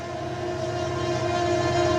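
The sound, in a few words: train passing during flooding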